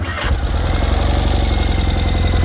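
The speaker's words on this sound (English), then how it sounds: "Fires up without any hesitation. The bike's been sitting for a while and it fires right up." A 2021 Ural Limited Edition GEO motorcycle with 29 miles, left sitting for a while, fires up on its electric starter after a brief crank and settles into a loud, close, steadily throbbing idle.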